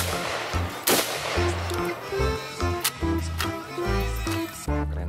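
A toy AK-47 gun fires in a rapid, uneven series of sharp electronic bangs, loud and close, with a thumping tone pattern between shots.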